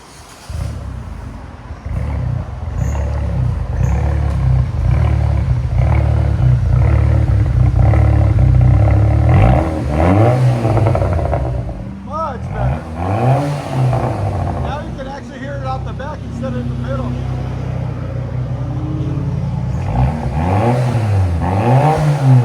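Straight-piped exhaust of a 2008 Saab 9-3 2.0L turbo, loud and close, holding a steady idle before rising and falling through several sharp revs, with a few quieter gaps between blips.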